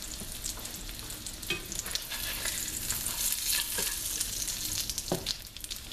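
Crab cakes fry in a pan with a loud, continuous close-up sizzle and crackle, dotted with occasional sharper pops throughout.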